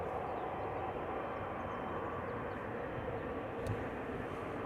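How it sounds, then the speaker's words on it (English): A Boeing 787-9 Dreamliner airliner arriving at Amsterdam Schiphol Airport, heard as a steady, broad, distant engine roar that holds evenly throughout, with no talk. "Indigo Flight 21 arriving from Mumbai in India. 7879 Dreamliner."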